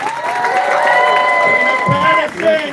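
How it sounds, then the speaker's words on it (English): Audience at a fundraiser show applauds and cheers loudly and steadily, a dense crowd roar with shouts layered over clapping, continuous through the clip before easing briefly near the end. "Give yourself a round of applause for coming out for our friend Tina tonight."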